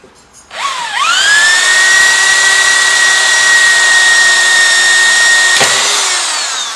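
A power drill whines steadily as it bores into Toyota Corolla bodywork while a car wing is being replaced. It gives a loud, sustained high-pitched drone for several seconds, then spins down near the end.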